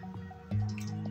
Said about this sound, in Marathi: हे 2-3 पाण्याने धुवून काढणार आहे